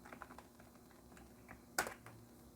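Computer keyboard keys tapped softly and sparsely, a few light clicks followed by one sharper keystroke, close but faint against a quiet room hum.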